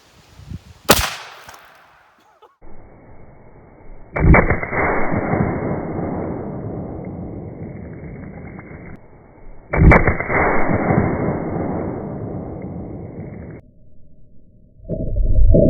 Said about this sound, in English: Terminal ballistics test with the Nerf dart shot out of a Texan.